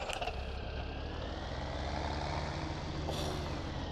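A Massey Ferguson 3090 tractor engine in the Farming Simulator 17 video game runs with a steady, low diesel drone throughout, joined by a brief hiss near the end.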